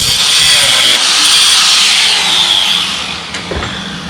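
A power tool cuts off a weld from a metal part in a home garage, making a loud, harsh, high-pitched grinding whine that runs steadily and then eases slightly toward the end.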